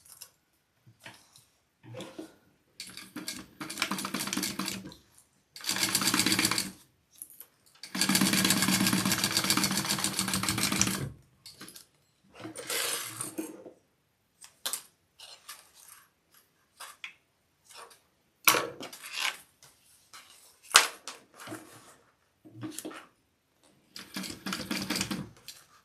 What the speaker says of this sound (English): So I'm going to just baste these back two pieces together.